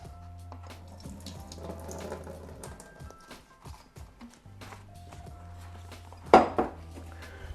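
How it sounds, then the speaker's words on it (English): Water used to rinse a paper filter is dumped from a Chemex glass coffee maker into a sink, a short splash and clatter near the end after quiet kitchen handling sounds and running-tap noise. "I'm gonna dump that water"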